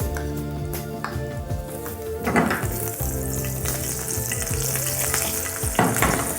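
Cumin seeds and green chillies fry in hot oil for pudina thambli, a loud, close crackling sizzle with sharp pops and a few clinks of a spoon against the pan.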